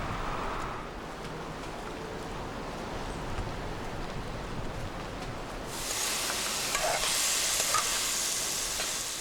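Onions, sweet pepper, garlic and tomatoes fry in vegetable oil as a spice mix for a traditional Jamaican ackee dish, a soft continuous sizzle and hiss that turns brighter and louder in the last few seconds.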